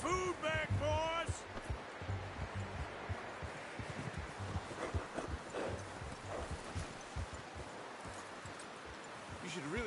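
Horse hooves clip-clop steadily on the ground in Red Dead Redemption 2, a continuous rhythmic trot heard under ambient game noise and voices of people talking nearby.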